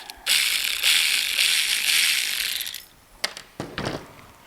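A socket ratchet turns a nut free on the wheel of a 5X inner tube, giving a continuous close clicking for about two and a half seconds, then a few short separate ratchet bursts.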